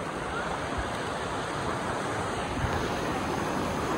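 Water rushes steadily over Tapalwadi waterfall, a continuous broadband roar close by with a faint hiss of wind and no talk.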